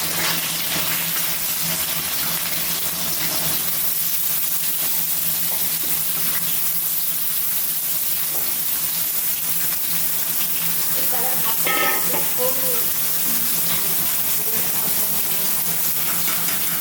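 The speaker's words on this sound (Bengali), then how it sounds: "এবার এই যে কেটে রাখা পটলগুলো দিয়ে দেবো।" Sliced pointed gourd fries in hot mustard oil with a loud, continuous close sizzle and hiss that holds steady throughout, with a few faint clatters near the end.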